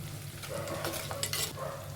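Oil sizzling steadily as dried turkey berries and onions fry in a pan, with a few soft scraping stirs and crackles, close up and no talking.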